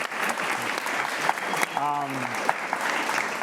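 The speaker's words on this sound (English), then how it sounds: "give a round of applause." An audience of students applauds at a journalism academy event, a short burst of clapping with a voice speaking over it partway through.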